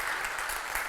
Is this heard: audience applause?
yes